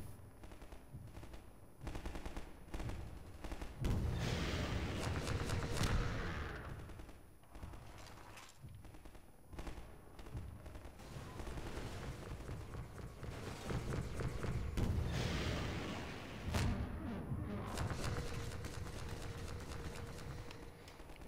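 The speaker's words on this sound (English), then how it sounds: "then I peek back out and shoot it" Rapid bursts of gunfire from the video game Half-Life 2 fire almost continuously, dense and loud, with fast repeated shots blending into a steady barrage.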